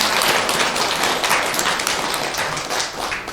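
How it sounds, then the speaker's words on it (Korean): Audience applause at a Buddhist temple Sunday dharma gathering, a dense crackle of many hands clapping that runs steadily and tapers slightly, with no speech over it. "박수 치셨으니까"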